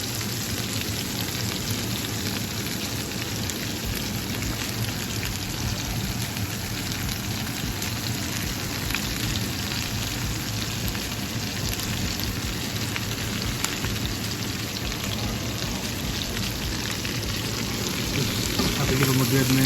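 Garlic, onions and mushrooms sauté in olive oil in a pan, making a dense, steady sizzle that holds throughout with little change in loudness.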